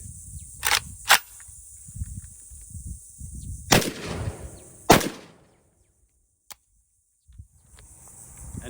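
A PSA Krink rifle fitted with a short Lahar-30K suppressor fires four suppressed shots, sharp loud cracks spaced irregularly over about five seconds, outdoors with a steady insect chirr in the background.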